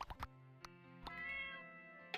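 A cat in the video game My Time at Portia meows several times in short, tonal calls, clear and isolated, with a few soft clicks between them.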